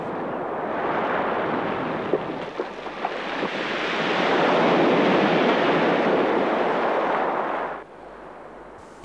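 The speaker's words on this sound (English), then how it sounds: "When waves break on rock, it's the rock that is broken." Waves crash heavily onto rocky shore, a sustained loud roar of surf and spray with a few sharp impacts partway through, easing briefly near the end before another surge.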